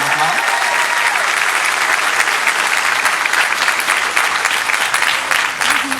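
Crowd at a university graduation ceremony on the St. Croix campus applauding graduates' parents, loud, sustained clapping from many people that holds steady for the full six seconds with faint voices underneath.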